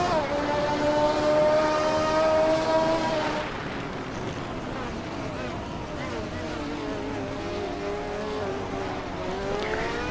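Engine of a racing car in a Hot Wheels video game, racing fast with a steady high whine whose pitch rises and falls. It plays loud and continuous for about three seconds, then thins into a rougher drone under game noise.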